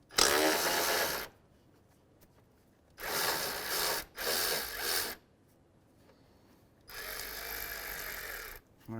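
A ratchet works on a 10 mm bolt at the bottom of a 2015–2019 Hyundai Sonata radiator and fan assembly, heard as four close bursts of rapid clicking, each about a second long, separated by pauses, with no talk.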